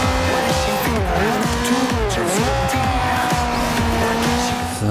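Cars brake hard with sustained tire squeal and skidding over roaring racing engines in the driving game Forza Horizon 2, loud and continuous throughout with no talk.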